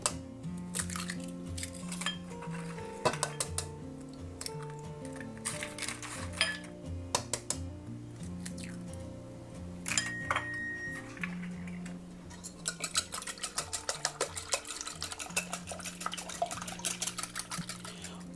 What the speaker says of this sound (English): I'm going to start by whisking or beating all 5 of my eggs in a bowl